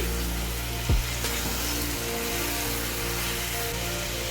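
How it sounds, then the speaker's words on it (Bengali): Fried potatoes and jackfruit are tipped into sizzling masala and stirred, giving a soft steady frying hiss with a sharp clunk as they drop in and light scraping afterward. "এখন এর মধ্যে দিয়ে দিচ্ছি ভেজে রাখা আলু আর দিয়ে দিচ্ছি ভেজে রাখা এঁচড় মশলার সাথে খুব ভালোভাবে মিশিয়ে নিচ্ছি"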